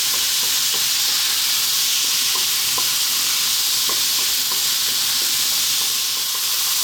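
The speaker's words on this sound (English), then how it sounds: "stir frying away" Chicken and broccoli with oyster sauce stir-fry in a hot pan, giving a loud, steady sizzle with scattered crackles and light scraping, and no voices.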